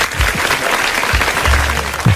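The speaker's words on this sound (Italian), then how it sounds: "Applausi." Studio audience applause greets a guest on a live Italian rap show, a steady, dense wash of clapping at close range that holds for a couple of seconds.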